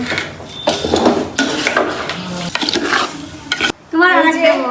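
Pilaf cooks in a large pot while a spoon stirs and scrapes through it, giving loud repeated scraping strokes over a frying sizzle, close up; a voice is heard briefly at the end.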